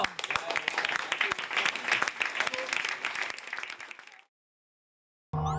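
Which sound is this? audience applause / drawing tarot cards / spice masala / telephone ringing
audience applause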